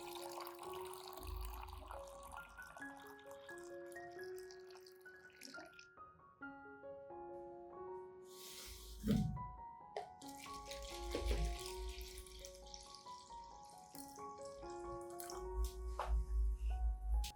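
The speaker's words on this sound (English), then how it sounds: "I'll further dilute the solution with 1 liter of clean water" Clean water trickles and splashes into a container of plant solution in a few gentle bursts over soft background music, quiet and close.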